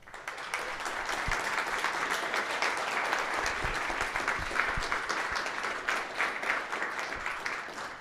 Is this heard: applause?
yes